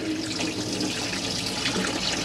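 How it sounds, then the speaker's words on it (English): Pressurised water gushes steadily from a tap in a Bailey Approach Autograph 745 caravan, a loud continuous close-up splashing flow with no talking. "you'll get a pressurised flow of water like this."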